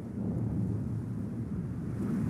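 A thunderstorm sound effect rumbles low and continuous, with a steady roar of wind and distant thunder filling the whole stretch and no speech over it.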